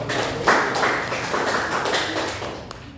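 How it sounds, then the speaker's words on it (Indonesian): A classroom of students claps together at the end of a lesson, a dense, steady patter of many hands that swells around half a second in and carries on without a break for the rest of the clip. "Oke, tepuk tangan dulu"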